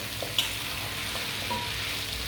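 Olives fry in a spice mix for pickle, a close, steady sizzle with a soft stir and a brief clink of a utensil.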